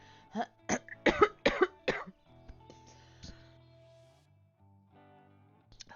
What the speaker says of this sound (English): Sorry, I'm trying not to cough into the microphone.